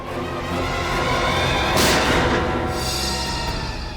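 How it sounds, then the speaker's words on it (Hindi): A gunshot rings out in a tense crime-drama scene, a single sharp report with a heavy boom near the middle, set against a constant dense background of noise with no talk. "गोली चलने की आवाज इस तरफ से आई।"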